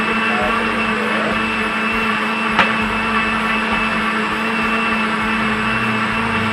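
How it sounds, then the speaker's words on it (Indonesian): A kitchen blender runs steadily, grinding cut dragon fruit with other kitchen scraps for liquid organic fertilizer, a constant loud whirring motor drone with no voices over it. "Nah, buah naga, potong-potong itu buah naganya. Terus kita blender."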